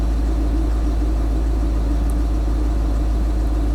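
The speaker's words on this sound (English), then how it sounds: "So I'll just let it idle, see what it's putting out" A Range Rover L322 3.6 TDV8 diesel idles close by, producing a loud, steady low rumble with a constant hum that stays unchanged throughout and has no voices over it.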